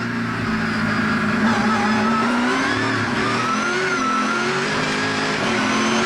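An onboard V8 SuperTourers race car engine at Highlands Motorsport Park roars steadily, the throttle held high with its pitch rising and falling slightly, loud and close throughout.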